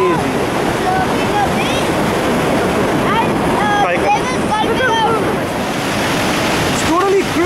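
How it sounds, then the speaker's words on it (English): Iguazu Falls at the Devil's Throat on the Argentine side roars as a loud, steady wash of rushing water with wind buffeting the microphone, while excited voices talk over it. "Look at that waterfall."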